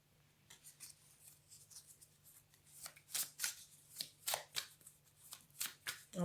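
A deck of cards is shuffled and drawn close up, soft riffling and sliding flicks gathering into a quick, rapid run of snaps, quiet against a faint steady hum.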